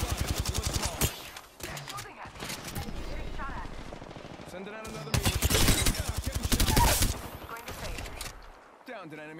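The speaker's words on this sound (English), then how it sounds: "Enemy fire." Enemy fire in a video game arrives as bursts of rapid automatic gunfire, two dense volleys separated by a calmer stretch. The shots are fairly close and loud, with faint talk and game sounds between them.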